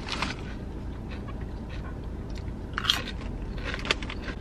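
Someone crunches salt and vinegar potato chips from Jimmy John's, giving a few sharp, close bites and crackly chewing over a steady low background hum, with no talking.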